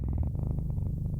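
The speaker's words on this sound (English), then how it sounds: "That's a cat purring." A cat purrs as ambience in a retro PC adventure game, a close, steady, rhythmic rumbling purr with no other sounds.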